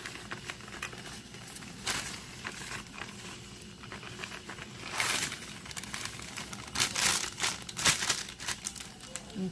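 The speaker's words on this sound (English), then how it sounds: "So you sprinkle the cake mix on top real nicely looking." Cake mix is sprinkled from a bag over peach cobbler, making soft, faint pattering and bag crinkling. Brief louder rustling bursts come near the end.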